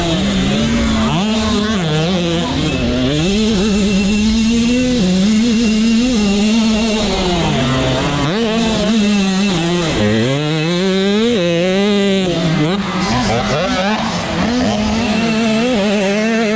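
A dirt bike engine revs hard and continuously, its pitch climbing and dropping as it shifts up through the gears, loud and close throughout without pause.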